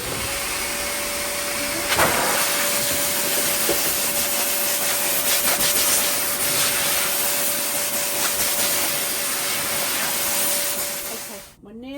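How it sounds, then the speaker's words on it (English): A hair dryer drying a dog runs with a steady whir and constant hum throughout, its airflow roughening now and then, then cuts off abruptly at the end. "now for hair dryer time. Dry you off."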